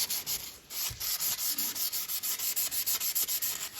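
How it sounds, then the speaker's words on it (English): Close, steady back-and-forth rasping of 320 grit sandpaper against the edges of a Spyderco Para 3 folding knife, the strokes repeating in a quick even rhythm with no talk. "Let me grab some sandpaper and just hit these edges. Do some 320 grit."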